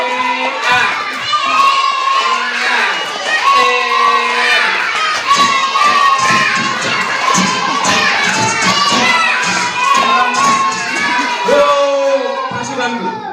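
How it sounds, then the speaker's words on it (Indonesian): Children in a crowd shout and cheer together at a Maulid Nabi celebration, loud and continuous, with clapping mixed into the din and no single voice standing out. "Sambil tepuk tangan sambil teriak gitu ya."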